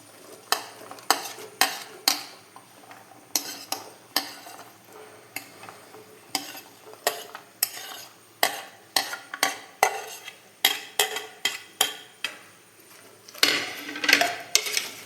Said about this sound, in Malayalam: നമുക്ക് അരിഞ്ഞു വെച്ചിരിക്കുന്ന ഏത്തക്കയും ചേനയൊക്കെ കടലയിലേക്ക് ഇട്ട് കൊടുക്കാം